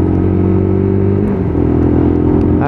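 A Lexmoto LXR 125cc motorcycle engine runs loud and close with a steady buzzing drone, the pitch dipping slightly midway before holding steady, with no talk.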